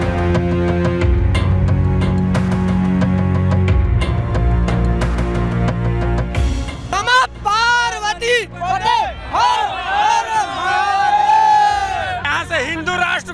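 Large crowd of pilgrims at the Maha Kumbh Mela 2025, a loud dense babble of many voices with shouts and whoops, with a voice speaking over it and music-like tones in the first half.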